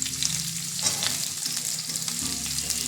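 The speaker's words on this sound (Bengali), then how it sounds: "এটা আমি হালকা ভেজে নেব" Ridge gourd and other vegetables fry lightly in a pan, giving a continuous soft sizzle with occasional stirring scrapes.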